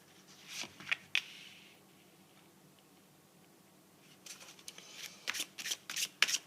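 Tarot cards being shuffled and drawn, with short papery riffles near the start and a denser burst of flicking and slapping card sounds toward the end, close and fairly quiet, no talking.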